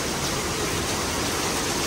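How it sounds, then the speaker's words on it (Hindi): Heavy rain pours down outside in Chandigarh, a loud, dense, unbroken roar of water that fills the whole moment with no voices. "बारिश देखो कितनी भयंकर हो गई है शुरू"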